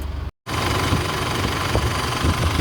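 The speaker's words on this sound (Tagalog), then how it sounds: "Ito na yung diesel engine na kumakalampag." Isuzu D-Max diesel engine running with a rough, steady rattling clatter after a brief cut at the start, loud and close throughout with no talk.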